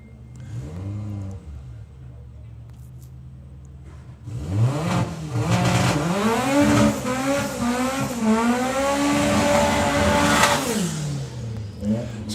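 A Volkswagen Beetle drag racing car at a drag strip festival launches and accelerates hard, its loud engine climbing through rising revs with gear-change dips, close and dominant after a quieter idle.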